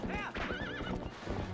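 A horse neighs loudly in The Legend of Zelda: Twilight Princess, a wavering whinny up close with clip-clopping hooves beneath it throughout.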